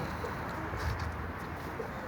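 Soft, low cooing from a lively pigeon with taped wings, kept close by indoors, a steady murmuring coo under faint background hiss with no talk.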